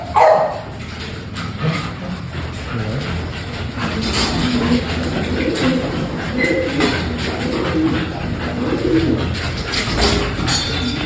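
Pigeons cooing in a loft of imported long-distance racing birds, soft low coos repeating over a busy background of other birds and a dog barking now and then.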